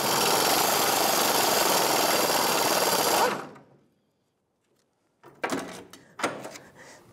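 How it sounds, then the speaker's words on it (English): An air impact gun with a 15mm socket hammers at rusted nuts and bolts on the rear fuel pump module of a 1992–1996 Ford F-150, a loud continuous rattle that stops abruptly, followed by a few short metallic clanks. "I'm going to be using a 13mm wrench or half-inch wrench and a 15mm socket with my air gun trying to get these to break free"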